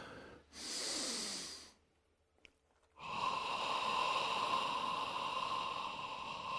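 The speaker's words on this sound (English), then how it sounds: "One more big breath." One deep, slow breath during a meditation: a long inhale, a pause, then an extended exhale, close and intimate against quiet background hiss.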